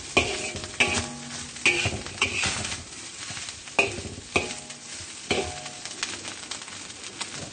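Onions stir-fry with light soy sauce in a pan, giving a soft sizzle under repeated rhythmic scrapes and clinks of a utensil against metal, close and fairly loud.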